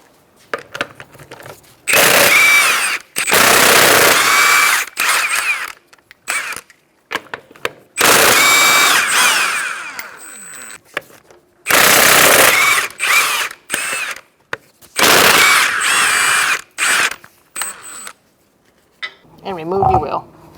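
An impact gun with a 21mm socket removing lug nuts from a Kia Soul front wheel, firing in several loud, long bursts with ratcheting chatter and short pauses between them.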